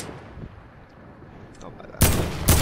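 Gunfire in a video game, two loud, close bursts of shots landing near the end after a quieter stretch of low background noise.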